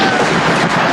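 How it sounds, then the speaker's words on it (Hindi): Gunfire sound effect depicting a massacre firing, a dense continuous crackle of shots and rumble, loud and sustained throughout. "और 1650 गोलियां चलाई गई"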